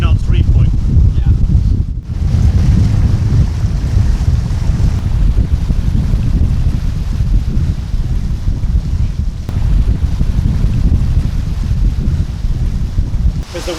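A Lagoon 420 catamaran day sailing off St Petersburg in strong wind near the reefing point, with heavy continuous wind buffeting and rushing waves close to the microphone throughout.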